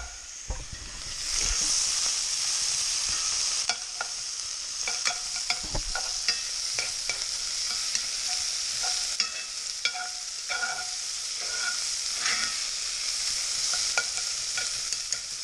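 Chopped onions fry in a pan for venison and lentil chili, giving a continuous close sizzle broken by repeated scraping and clacking strokes of a spoon stirring them, with no talking.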